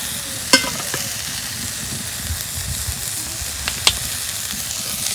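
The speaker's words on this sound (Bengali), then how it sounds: "আমি ভাতগুলা ভাইজে নেবো তেল দিয়ে" Leftover cooked rice frying in oil with chopped onion in a pan, a loud continuous close sizzle with a couple of sharp metallic clinks from stirring.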